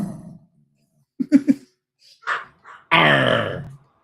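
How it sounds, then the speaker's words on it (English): A dog makes a few short, low grunting noises, then lets out one longer, louder growling vocalization close by, with quiet gaps in between. "Oh, I heard a growl."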